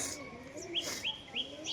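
Deshi Giribaz pigeons kept for sale call quietly, a few short rising chirps repeating about every quarter second over a low murmur.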